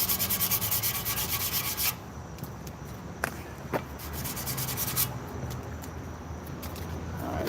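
Sandpaper rubs rapidly against a surface outdoors in a parking lot, with a steady scratchy friction for a couple of seconds, then quieter intermittent scraping and a few sharp ticks.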